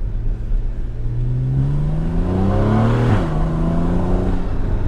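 A Porsche Cayman 981 engine under way, revving up in a rising whine, then dropping sharply as the gear changes and pulling again, loud and close with no talking.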